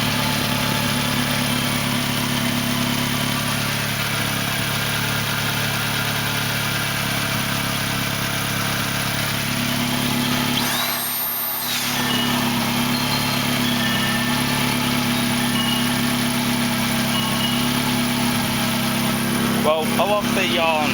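Nissan B15 Sentra engine with new headers idling steadily, a constant close rumble with a brief dip midway and light clatter near the end, with speech faintly underneath.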